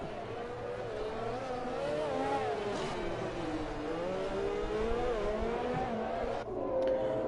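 F4 race car engine lapping the Monaco circuit in a racing video game, a steady high-pitched whine rising and falling with gear changes and acceleration throughout.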